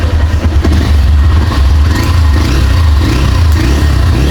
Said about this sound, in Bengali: বাইকটির সাউন্ড কোয়ালিটি একদম স্মুথ আমি আপনাদেরকে দেখিয়ে দিচ্ছি তো বাইকটা এখন বর্তমান স্টার্ট অবস্থা আছে